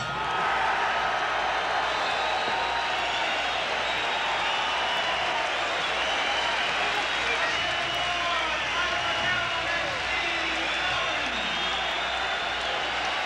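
A boxing arena crowd, mostly on its feet late in the twelfth and final round, roars and applauds steadily throughout, with a commentator talking over the broad, continuous noise.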